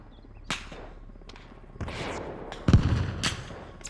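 Bolt-action rifle shots in Arma Reforger, a few sharp cracks spaced apart over a murky battlefield background, one heavier boom with a rumbling tail near the end.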